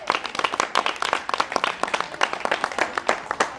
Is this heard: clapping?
yes